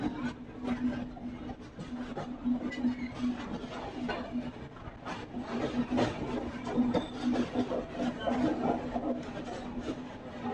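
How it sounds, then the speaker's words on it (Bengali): The Howrah Patna Jan Shatabdi Express pulls into Jasidih Junction, its wheels and carriages giving a rattling, clattering rumble with a steady hum, fairly close and continuous, with faint voices in the background. "আমাদের ট্রেন এসে পৌঁছালো জেসিডি জংশন।"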